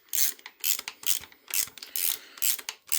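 Quarter-inch socket ratchet clicking as it loosens bolts on the auxiliary air valve of a Jaguar XJS V12, the bolts threaded into aluminium. Several close, crisp bursts of rapid ratcheting come in a steady back-and-forth rhythm with no talk.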